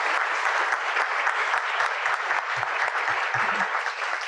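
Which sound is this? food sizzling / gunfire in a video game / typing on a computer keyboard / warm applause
warm applause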